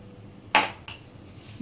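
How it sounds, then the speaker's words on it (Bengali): Mango pieces are mixed with spices and salt for a mustard-oil mango pickle. Two sharp, close clinks of a utensil against a bowl ring out, a loud one followed by a softer one, with no talking. "ভালো করে মশলা দিয়ে আমটাকে মেখে নিচ্ছি।"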